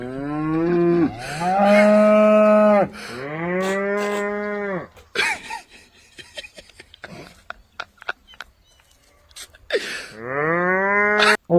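A boy imitates a cow, producing long, loud, drawn-out moos in repeated bursts, with a quieter stretch of scattered clicks and rustles between them before a final moo.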